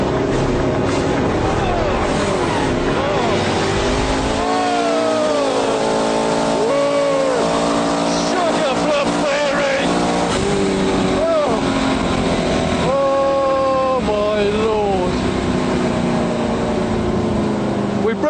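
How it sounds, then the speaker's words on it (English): A street-legal car makes a hard launch on a drag strip with heavy wheelspin, its engine roaring loud and close, the pitch sweeping upward repeatedly through gear changes for the whole run. "Traction off the line, but God, then it took off. That was spun the tyres a lot then."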